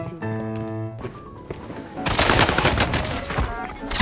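Shotgun fire in Call of Duty on Rebirth Island: after a short electronic tone, heavy booming blasts and a burst of dense gunfire erupt loudly and fill the last two seconds.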